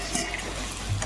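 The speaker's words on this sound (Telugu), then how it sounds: "ఇప్పుడు ఇందాక మనం ఉడకపెట్టుకున్న చికెన్ని దీంట్లో వేసుకోవాలి." Boiled chicken tipped into a pan of fried ginger and garlic: a steady close sizzle and frying hiss with a light stir, and no talking.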